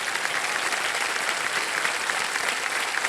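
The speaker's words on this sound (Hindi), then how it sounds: "ये ताली बज जाए इनके लिए।" A television game show studio audience breaks into steady applause, many hands clapping densely and loudly for a few seconds without a pause.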